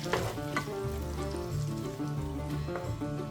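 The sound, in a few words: food stirred and frying in butter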